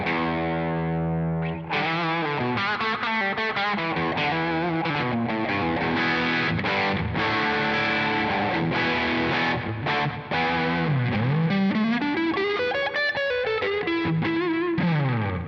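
An Eastman electric guitar with P90 pickups played with some gain: a sustained chord gives way to a busy run of overdriven notes and bends, steady and loud throughout, with no talking.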